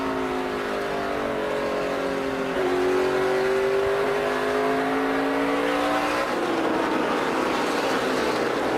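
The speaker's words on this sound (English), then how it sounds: "You can hear how smooth he gets out of the throttle, get down into 1." A NASCAR Sprint Cup race car at a 3/4-mile track, its engine note rising and easing as the driver lifts and rolls back onto the throttle through a corner, a loud continuous roar with steady harmonics.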